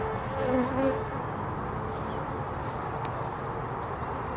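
Bees buzz steadily in a continuous dense drone, close and moderately loud, with a few brief louder passes near the start and no talking.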